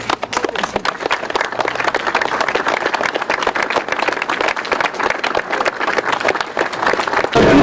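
Crowd applause at a memorial ceremony for gendarmes who died in service in Morbihan, steady dense clapping from many hands, fairly close, continuing throughout without talk.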